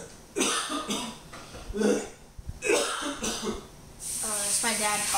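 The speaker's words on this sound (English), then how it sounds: "It's my dad coughing." A man coughs in the background of a room where Mario Kart 8 is being played on the Wii U, with several rough, raspy cough bursts and throat clearing spread over a few seconds alongside game sounds.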